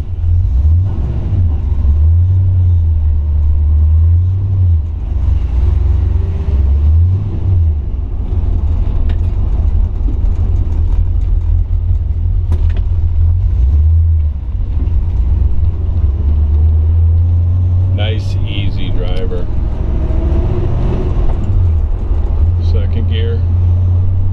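A 1961 Pontiac Ventura Bubble Top with a 389 Tri-Power V8 and four-speed manual, driven around the block: a loud, steady engine rumble with rising and falling revs under a voice.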